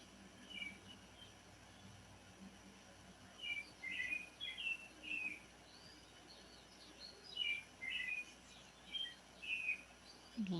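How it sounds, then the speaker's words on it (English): Birdsong during the quiet resting pose of a full moon yoga session: bright chirps and short phrases repeat in bursts, moderately soft and somewhat distant, over a steady low insect-like hum. "Listen to the sweetness and the innocence of the bird."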